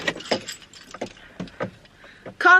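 A bunch of keys jingles and clinks in rapid metallic bursts during a van life travel day, close and fairly loud, ending in a bright shake.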